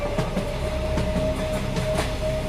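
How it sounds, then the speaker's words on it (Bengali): A cartoon train begins to roll out of a station, a steady rail rumble with faint rhythmic clatter and a thin sustained whistle-like tone running throughout, alone without voices. "ট্রেনটা চলতে শুরু করেছে"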